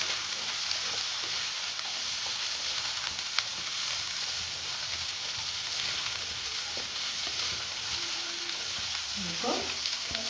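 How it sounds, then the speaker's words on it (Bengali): Potatoes and onions, cut together, frying in a pan: a steady, even hiss of sizzling oil with occasional faint stirring scrapes, close and moderately loud. "আলু আর পেঁয়াজ একসঙ্গে কেটেছিলাম, এটা দিয়ে দিলাম। দিয়ে আলুটাকে আমি খুব সুন্দর করে ভেজে নেব।"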